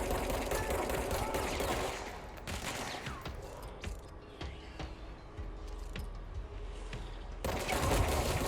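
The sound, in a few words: shotgun firing in the video game Control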